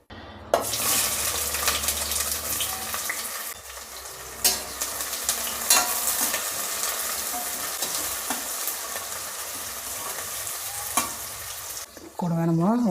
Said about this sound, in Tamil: வெங்காயம் சேர்த்துக்கலாம்.